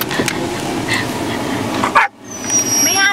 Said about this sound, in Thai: ไม่เอาเดี๋ยวช้างตกใจห้ามเห่า